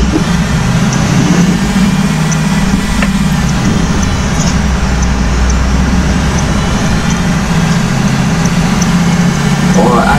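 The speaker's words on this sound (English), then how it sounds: "I love the engine of this bus. Sounds so good." A bus engine in a video game runs loud and steady, with a constant low droning rumble that carries through the whole stretch.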